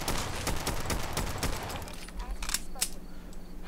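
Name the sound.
gunfire from a .45 weapon in Fallout video game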